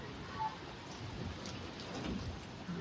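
Rain pours down during a storm as a steady, fairly faint hiss of drops on surfaces with no clear pauses.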